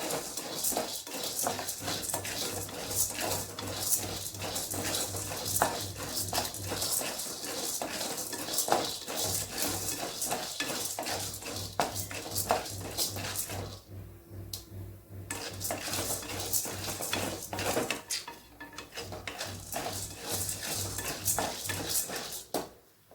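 Ingredients for a drumstick leaf and tamarind powder are dry-roasted and stirred in a pan, with a continuous, close metallic scraping and clinking over a low steady hum, with a few brief pauses.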